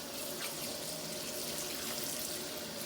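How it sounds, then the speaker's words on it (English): Tap water runs steadily into a sink during handwashing, a continuous close hiss and splash with no voices. "I'm going to thoroughly wash my hands, ensuring that I do not touch the sides of the sink"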